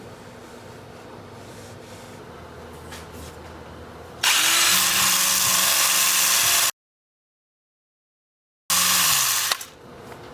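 A power sander whirs loudly in two bursts separated by a moment of silence, sanding a wooden alder bowl on a lathe, with quieter workshop noise before it starts.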